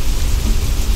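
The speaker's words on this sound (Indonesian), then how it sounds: "Rupanya, hujan besar sekali di luar." Heavy rain pours steadily outside at night with deep rolling thunder rumbling underneath, a dense continuous roar filling the whole moment with no voices.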